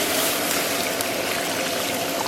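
Water pours steadily into a pan of braised pork trotters that were just stir-fried with light soy sauce and soybean paste, making a continuous soft splashing rush at moderate volume with no voices.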